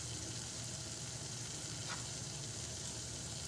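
Masala with turmeric and salt frying in a kadhai for a mushroom curry gives a faint, steady sizzle that holds evenly throughout, with no talking.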